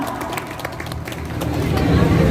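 Audience claps and cheers at a Ramadan charity gathering, a dense burst of scattered hand claps over crowd hubbub that swells louder toward the end.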